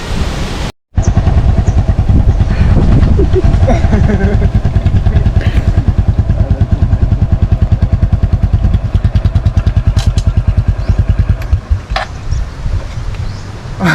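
A motorcycle engine chugs steadily up close with rapid rhythmic pulses, rattling and rustling over it, and voices can be heard among the noise, as the motorcycle falls over on a beach.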